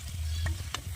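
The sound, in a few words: curry leaves sizzling in hot oil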